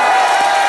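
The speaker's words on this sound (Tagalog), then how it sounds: "isa munang palakpakan na may kasamang sigawan!" A live crowd at a lively Filipino gathering cheers and shouts together in a dense, loud, continuous roar with scattered whoops, no single voice standing out.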